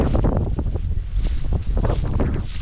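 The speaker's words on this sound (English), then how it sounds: "It's really, really windy today." Strong wind buffets the microphone in a continuous low roar, gusting loudly throughout with no other clear sounds.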